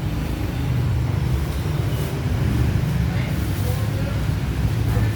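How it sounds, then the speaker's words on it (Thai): A Yamaha Nmax scooter engine runs at a steady idle after brake work, giving a continuous low hum with some wind-like rushing noise over it. "สตาเครื่องฟังเสียงครับ"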